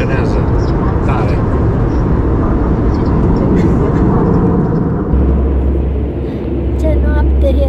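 Airplane cabin on a night flight to the United States, lights dimmed: a loud, steady low engine and air drone that fills the space continuously with little change throughout.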